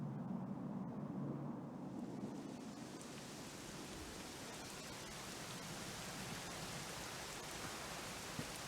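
Steady video game rain in Dragon Quest XI S pours down in a constant hiss, with a low rumble early on that gives way to dense, even patter.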